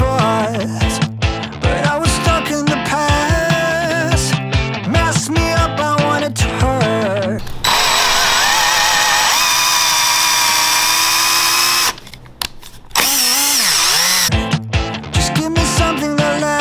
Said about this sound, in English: taking these blocks of wood, drilling some holes in it